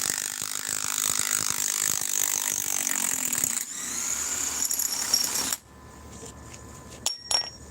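A DeWalt power tool driving a socket, loud rattling impact hammering for several seconds, then a pause and a few short clunks, close by with no talk.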